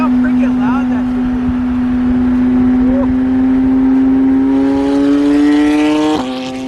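A lowered Nissan GTR revs loudly nearby, its engine note climbing steadily for several seconds before cutting off sharply. People talk over the sound.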